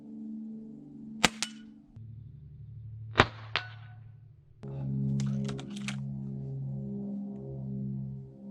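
A Gamo Swarm Fusion 10X Gen 2 .22 caliber air rifle with a 10-shot magazine fires stock, sharp snapping shots heard singly and in a quick pair, each followed by a brief metallic ring and mechanical cycling noise in between.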